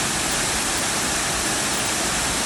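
A waterfall in Manjeri during the rainy season, roaring as a loud, dense, unbroken rush of water with no voices.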